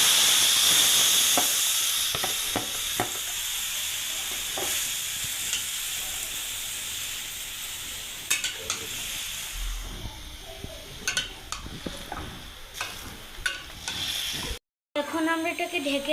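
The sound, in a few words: beef being sautéed in a pan with browned onions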